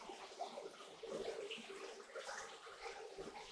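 Steady rush of water flowing through a DIY recirculating gold high banker, a continuous splashing wash with no pauses, moderately close.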